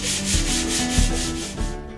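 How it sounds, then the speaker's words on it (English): Sandpaper rubbing rhythmically over the spruce and mahogany deck strips of a DIY strip-built kayak, a close, loud, scratchy back-and-forth with steady strokes and no talking. "Finish with sanding to remove the cracks from the rasp."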